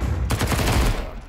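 Rapid bursts of automatic gunfire in Counter-Strike 2, a loud dense rattle of overlapping shots that fills the whole moment before cutting off sharply near the end.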